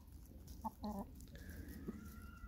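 A chicken gives a few short clucks at close range on grass near a rooster, over a low, steady background rumble, with a faint higher tone drifting in partway through.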